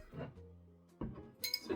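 A glass of New Riff Balboa Rye whiskey is set down on a table with one soft, quiet clink, followed by light glassy handling sounds.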